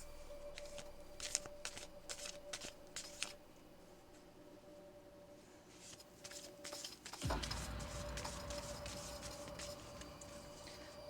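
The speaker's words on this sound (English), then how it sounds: "I'm gonna pull 3 oracle cards, and I'm going to pull 3 lovers cards, and I'm going to pull 3 tarot cards." Oracle and tarot cards are handled and pulled from a deck close up, with a run of quick papery slides and flicks, a pause, then louder riffling and shuffling.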